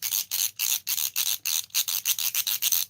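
A screwdriver's spinning collar being twirled by hand, a quick run of about fourteen rapid, close whirring rubs in steady rhythm.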